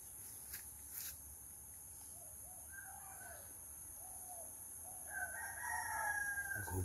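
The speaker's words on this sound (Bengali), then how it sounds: "মোরগের ডাক" A rooster crows at mid-distance on a rural Bangladeshi morning, one long rising call near the end, with fainter bird calls and a steady hiss of insects underneath.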